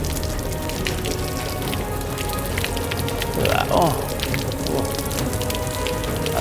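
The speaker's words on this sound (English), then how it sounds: "It's like cleaner water coming out." Water gushes and splatters as it flushes out of the chassis of a Toyota Land Cruiser 79 Series, a continuous rushing spray with a brief louder surge midway and a short spoken exclamation over it.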